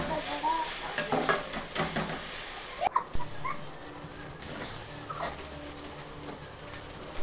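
Grated raw mango is stirred into rice in a hot pan for mango chitranna, with a spoon scraping and clacking against the pan over a soft sizzle, the strokes uneven and close.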